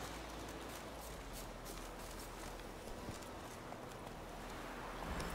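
Roach the horse gallops in The Witcher 3, a faint, quick clip-clop of hooves in steady rhythm over a dense background wash, with no talk.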